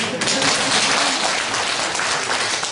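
An audience at a Catholic priest's Advent lecture breaks into applause, a dense burst of many hands clapping at once that stays loud and full for a few seconds.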